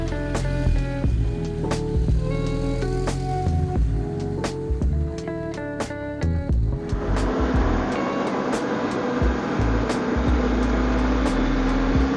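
A 2007 Porsche 911 997 Turbo drives along, its engine a steady drone with shifting tones, heard without talk and with a change in character partway through.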